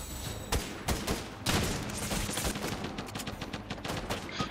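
Rapid bursts of gunfire from a Fortnite match crackle in quick succession, dense overlapping shots and sharp repeated cracks at close range, with no one talking.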